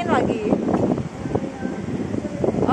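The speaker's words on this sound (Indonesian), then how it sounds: "Kena angin lagi." Wind buffets a clifftop in a steady, loud rumbling gust against the microphone while someone talks over it.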